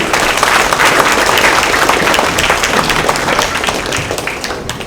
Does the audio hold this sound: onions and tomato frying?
no